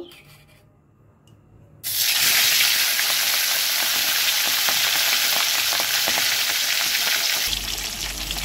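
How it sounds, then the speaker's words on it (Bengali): Salted, turmeric-rubbed fish head frying in mustard oil in a wok: after a near-silent moment, a loud, steady sizzle bursts in and holds close and continuous to the end. "প্রথমেই আমি মাছের মাথাটাকে"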